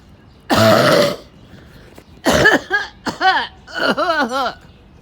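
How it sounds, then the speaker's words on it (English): A few loud, forced coughs close to the microphone, the first harsh and long, followed by a run of throaty, overdone coughs. "now I'm exaggerating with the cough"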